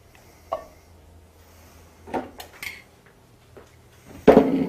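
A cooking pan is set on the stove to heat with coconut oil, giving a few scattered metallic clanks and knocks, the loudest clatter near the end, with quiet pauses between.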